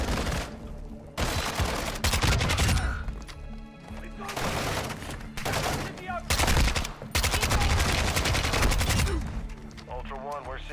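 Automatic gunfire in the video game Call of Duty DMZ, repeated loud bursts of rapid shots with short pauses between volleys, dense and close.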